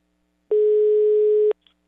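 A steady telephone tone sounds for about one second, loud and clean, then cuts off, followed by a couple of faint clicks in silence.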